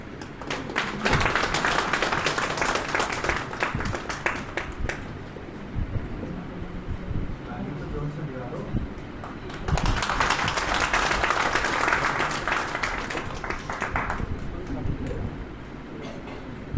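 An audience at a Hindu devotional discourse on Krishna bursts into loud clapping, sustained and dense, with a brief lull in the middle before a second strong wave of applause.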